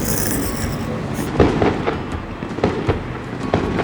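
Fireworks set off nearby while cycling in China, a string of sharp cracking bursts at irregular intervals over a steady background hiss.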